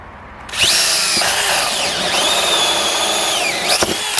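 A Dewalt DCD795 drill bores into hard, dense wood, its loud high motor whine running steadily for about three and a half seconds, dipping in pitch as the bit bogs down, with short sharp breaks near the start and end.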